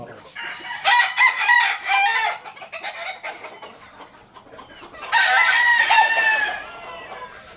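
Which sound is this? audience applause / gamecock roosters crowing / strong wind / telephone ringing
gamecock roosters crowing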